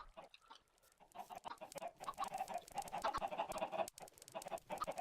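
Chickens cluck in a Minecraft game, a quiet run of repeated short clucks that grows busier after the first second and continues with small pauses.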